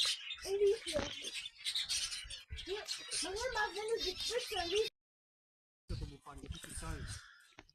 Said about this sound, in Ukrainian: природа і спів пташок.